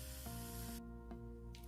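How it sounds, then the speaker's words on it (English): Alcohol sprayed onto a nail during a manicure: a brief, soft burst of hiss lasting under a second from a small spray bottle, followed by a few faint ticks, all quiet and close. "Then I'm going to spray it with alcohol."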